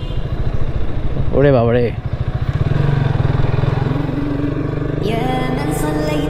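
A motorcycle rides along the roads of Comilla, its engine giving a steady, close, droning putter throughout, while a voice exclaims briefly over it.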